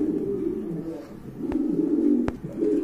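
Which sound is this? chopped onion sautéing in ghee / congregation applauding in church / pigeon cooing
pigeon cooing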